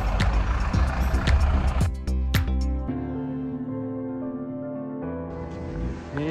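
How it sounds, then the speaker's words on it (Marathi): Heavy traffic jam on the road to Shankaracharya Temple in Srinagar, with running engines and long sustained horn blasts stacking over one another, loud and close, shifting in pitch as vehicles crowd behind. "खूपच गाड्या लागतात आमच्या मागे."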